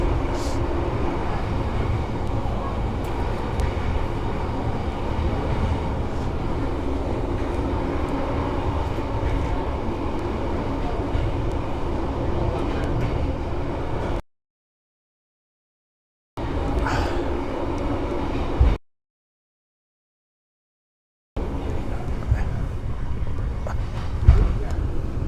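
Steady rumble and rattle inside a sleeper train cabin between Da Nang and Hue, Vietnam, carrying on for a long stretch, with brief quiet gaps and faint voices in the background.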